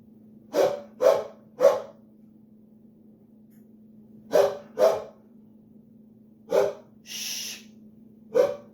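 Sharp, close barks from a guard dog come in a quick triple, then a pair, then single barks, with a breathy snort or sneeze between them over a faint steady hum.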